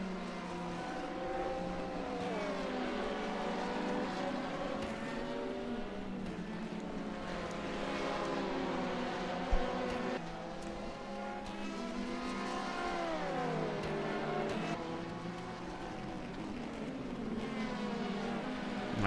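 GT sports cars, including a number 3 Ferrari and the 88, race at Road Atlanta in a video game endurance event, their engines whining in overlapping rising and falling pitches with gear shifts, loud and continuous, no talking.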